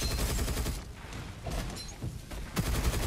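Rapid gunfire in the shooter game Gunfire Reborn, dense bursts of shots and impacts filling the whole stretch, loud and continuous with brief lulls between volleys.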